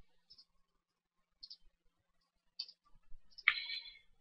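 A few sparse, quiet key clicks on a computer keyboard as a sentence is typed, then a short, brighter burst of clicks near the end, separated by near-silence.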